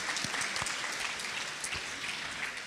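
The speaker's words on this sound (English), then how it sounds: "let's give another round of applause for the cooks" Sustained applause from a temple gathering at a Sunday program, honoring the cooks of the feast; dense, steady clapping from a crowd with no talking.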